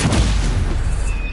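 A Revelio spell cast in the video game Hogwarts Legacy, heard as a loud, booming magical burst with a rumbling low end, fading into a sustained shimmering tone near the end.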